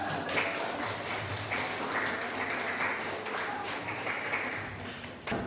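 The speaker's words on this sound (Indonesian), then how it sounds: "Kita berikan tepuk kita semua ya." A classroom of students clapping together after their teacher's prompt, a steady patter of many hands heard at moderate distance that carries on for several seconds and fades near the end.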